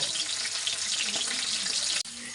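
Plates washed at a kitchen sink under a steady, loud rush of running tap water that cuts off abruptly near the end.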